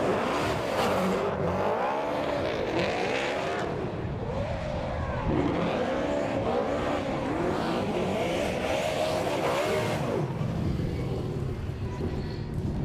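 A drift car on Tri-Ace tyres makes a qualifying run at a New Zealand Drift Championship round. The engine roars loudly, rising and falling as it revs, and the tyres squeal throughout.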